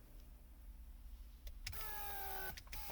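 A quiet hum gives way to a short whirring buzz as the central locking pump of a Mercedes S500 runs to unlock the fuel filler cap, with a few faint clicks around it.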